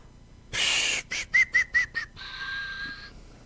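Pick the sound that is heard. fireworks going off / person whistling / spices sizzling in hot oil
person whistling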